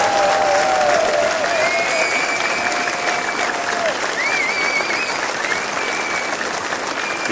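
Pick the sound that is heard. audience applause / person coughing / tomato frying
audience applause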